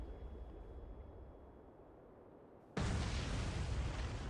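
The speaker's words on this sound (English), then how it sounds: "the explosion there wasn't particularly cinematic" An explosion in a casual mobile video game bursts in abruptly after a low rumbling lead-in, then holds as a loud, sustained roar of noise to the end.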